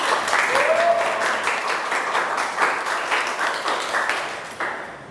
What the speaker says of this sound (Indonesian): Silakan semuanya beri aplaus dulu.